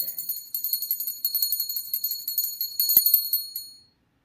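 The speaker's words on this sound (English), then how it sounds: "I brought my little bell out today." A small hand bell rung indoors, a quick steady series of bright high jingling strikes lasting about four seconds, close and clear, then stopping abruptly.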